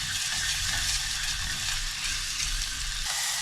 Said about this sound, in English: you're gonna add a tablespoon of crushed garlic. I've minced it, and saute for a few minutes